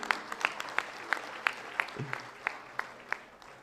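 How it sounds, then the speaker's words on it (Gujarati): Sparse, rhythmic clapping from an audience at a motivational talk, applauding young people; distinct evenly spaced claps at moderate distance over a faint room background. "જોરદાર તાળીઓ આ યુવાનો માટે"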